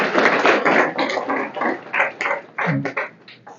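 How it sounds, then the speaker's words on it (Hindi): A crowd at an employment motivation camp claps steadily and fairly close throughout, the applause rising and falling in dense bursts with a few sharper individual claps. "इसके लिए भी ताली मारिए"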